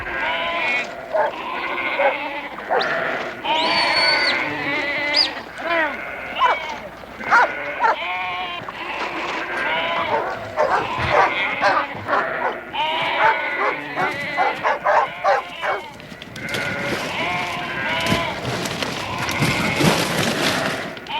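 Many sheep bleat over and over in a crowded, noisy chorus in a tight pen, loud and close, with overlapping calls and occasional thumps throughout.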